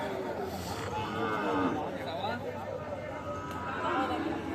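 Cattle low at a busy village livestock market selling Sahiwal bulls and calves, the moos rising amid crowd chatter and nearby talking.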